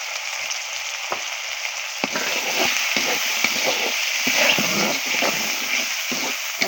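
Chili and cumin sizzle loudly in hot oil for a shing fish and potato curry, a dense, continuous crackle broken by repeated scraping stir strokes, close up and with no talk.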